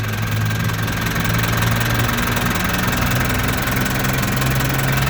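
A 1980 Toyota Land Cruiser BJ44V, a JDM-import diesel, idles loudly and close by with a constant droning rumble and a faint knocking clatter, with no speech over it.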